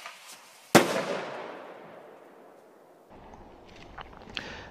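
A hunter's Mk79 flare pen fires a signal flare with one sharp, loud crack that trails off in a long echoing decay, followed by faint rustles and small knocks nearby.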